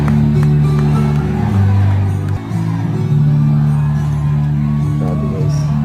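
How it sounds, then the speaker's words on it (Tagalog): A large crowd at a Duterte rally shouts in unison, a dense, loud roar of massed voices over a steady low hum, sustained for the whole stretch with a brief dip midway. "Ayan, sigaw ng mga tao."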